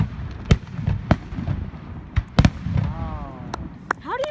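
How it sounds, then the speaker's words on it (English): Fourth of July fireworks burst outdoors, with several sharp booming explosions at irregular intervals, two in quick succession, plus rising whistles and crackle between them, under a busy crowd murmur. "How do you make fireworks that explode with like design?"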